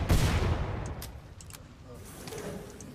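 Enemy gunfire in Killing Floor 2 opens with a loud burst at the start, then fades into scattered lighter shots and clatter under a game ambience bed.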